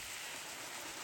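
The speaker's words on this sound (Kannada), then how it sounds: "ನೋಡಿ, ನೀರೆಲ್ಲ ಹೆಂಗೆ ಹೊಡಿತಾ ಇದೆ" A borewell-fed sprinkler sprays water across a farm near Gundlupete, a steady, even hiss like rain that holds for a moment with no other sounds.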